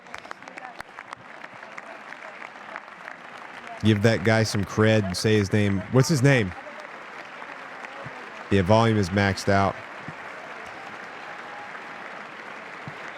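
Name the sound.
applause in Congress during a presidential address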